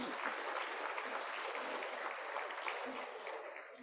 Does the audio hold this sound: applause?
yes